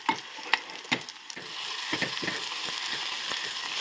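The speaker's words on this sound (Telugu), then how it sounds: "స్పామ్ బాగా వేగుతుంది." Spam frying in a pan for Korean kimchi stew, a steady close sizzle with a few sharp utensil taps and stirring scrapes early on.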